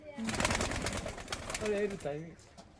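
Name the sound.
Bangladeshi high-flying pigeons cooing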